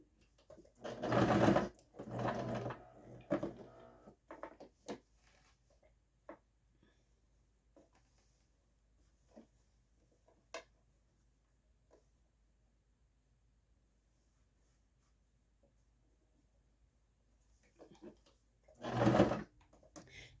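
A sewing machine stitching salwar fabric runs in two loud close bursts, one near the start and another near the end, with faint scattered clicks and quiet handling of cloth between them.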